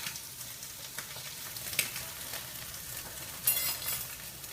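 Crab cakes frying in a pan give a steady, faint sizzle with soft crackles and a couple of brief clinks, with no voices.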